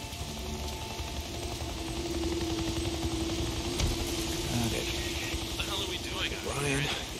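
Helicopter rotor drone in the video game Days Gone, a steady low engine hum under game ambience with faint scattered noises, no talk heard.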